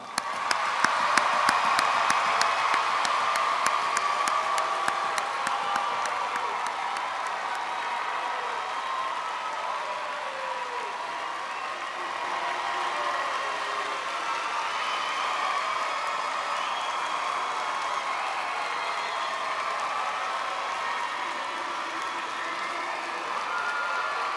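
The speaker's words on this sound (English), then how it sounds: "Let's give him a round of applause." A large audience at the 2013 Maury High School graduation breaks into sustained applause for a graduate. Dense clapping, scattered cheers and shouts swell at first, then settle into a steady roar of crowd noise.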